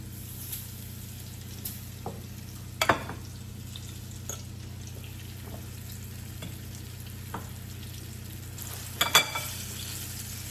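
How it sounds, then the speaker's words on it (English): Orange chicken pieces coated in oat flour and potato starch frying in hot oil, giving a steady low sizzle with a few soft clinks and stirring knocks on top. "Okay, that's hot, so we can get it in the oil."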